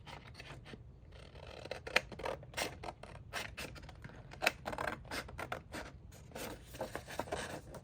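Scissors cut cardstock for a scrapbook layout in a string of crisp, close snips and rustles, irregular in rhythm and moderately quiet, with no talking.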